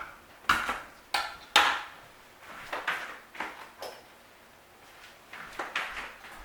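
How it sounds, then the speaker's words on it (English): A home-grown garlic clove is crushed on a kitchen board, several sharp knocking thumps followed by softer pressing and scraping strokes, close and clear, with no talk over them. "My own garlic, so I just need 1 clove, a nice beautiful clove. So we'll give that a crush."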